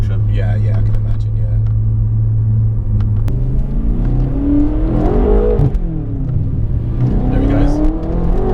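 A BMW F10 M5 with a dual-clutch gearbox accelerates hard, its engine rumble climbing through revs with quick shift breaks and pops, loud and close, while people talk over it.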